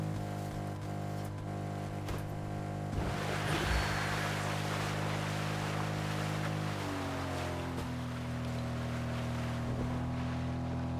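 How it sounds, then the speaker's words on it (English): A vehicle in Fortnite splashes through water: a steady engine hum with a churning, surging wash of spray that swells about a third of the way in and then settles into a lower, continuous drone. "I drove through the water there so I could get dashes."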